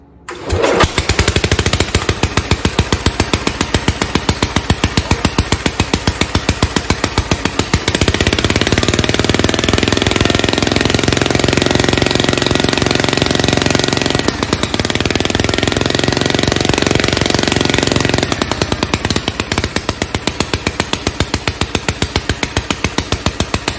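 A Homelite T12 garden tractor engine, one of the earliest built, cranks and catches, then runs loud and steady close by with a rough, pulsing idle that holds for over twenty seconds.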